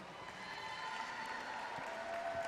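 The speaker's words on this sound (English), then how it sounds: "please give a big round of applause for our senior members, Tyler, Ben, and Caleb." Applause from a crowd at a high school boys basketball game between East Ridge and Belfry, honoring the senior players: a steady, even wash of clapping at moderate distance, sustained without breaks through the short stretch.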